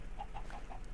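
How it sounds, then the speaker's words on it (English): Chickens in the Minecraft video game give a quick run of about four short, soft clucks in even rhythm, heard alone and faint in under a second. "Chickens are gonna follow me everywhere"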